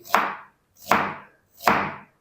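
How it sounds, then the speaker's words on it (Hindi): Onions are sliced with a knife on a board in three evenly spaced strokes, each a close, crisp crunch that fades quickly into silence, with no voices. "बिल्कुल आपने स्लाइस में इसको बारीक बारीक कटिंग करनी प्याज की"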